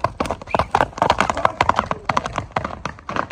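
A tall horse at a livestock market stamps and steps, with quick, irregular hoof knocks and taps close by and fairly loud throughout.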